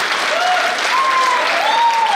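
Sustained audience applause at an honouring ceremony during a women's gathering, dense and steady for the whole stretch, with faint tonal sounds drifting above the clapping.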